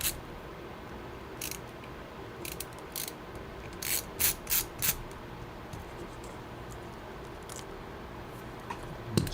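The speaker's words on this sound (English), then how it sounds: "And we add the daughter board screws back in." Several soft mechanical ratcheting clicks come in small clusters as screws are driven back into a computer daughter board, close and quiet against a faint background hum, with a tight run of clicks in the middle.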